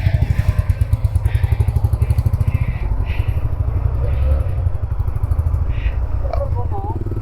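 Motorcycle engine running steadily on a ride through the Yercaud hairpins, a loud continuous drone close by with a faint chirp near the end.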